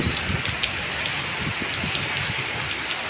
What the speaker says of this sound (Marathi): तिथे थांबलो या, पाऊस आलाय म्हणून.